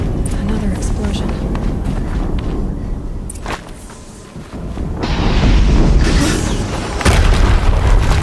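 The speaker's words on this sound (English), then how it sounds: "Another explosion." Horizon Zero Dawn gameplay, with booming blasts and bursts of impact sounds among the game's action noise, loud and layered, while voices talk over parts of it.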